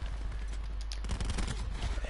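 Gunfire in a first-person shooter video game: rapid bursts of shots crackling through the mix at moderate to low level, with low background rumble and no clear talk.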